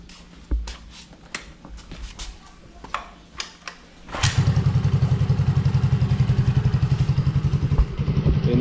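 A Mio Gravis motorcycle with newly replaced shocks, still in break-in: scattered knocks and clatter, then the engine starts at about four seconds and idles loudly with a steady, rapid thumping pulse up close.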